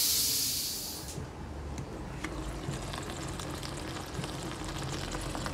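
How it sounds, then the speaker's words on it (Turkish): A pot of stuffed vine leaves (sarma) simmers on a stove, a soft steady hiss and bubbling heard up close, louder at the start and then settling into a gentle, even sizzle with scattered small pops. "İyice kaynamaya başladıktan sonra altını kısacağım ve kısık ateşte sarmalarımız pişecek."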